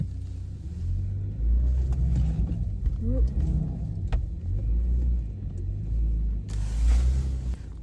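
A two-wheel drive ute rumbles over rough paddock ground, its engine close and loud with bumps and thuds, and a voice talks over it partway through.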